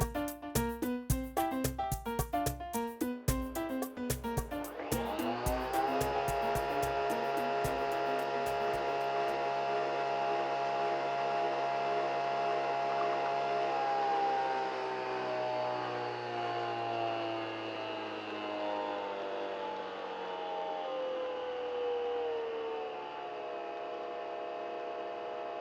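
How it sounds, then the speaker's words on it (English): A Nespresso Vertuo Creatista machine brews a coffee capsule, opening with rapid rhythmic mechanical clicking and whirring, then settling into a sustained, humming pump drone that gradually softens. "I've already put the capsule in the Vertuo machine, so it will brew right after the first one."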